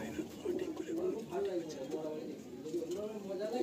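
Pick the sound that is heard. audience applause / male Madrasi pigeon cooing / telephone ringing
male Madrasi pigeon cooing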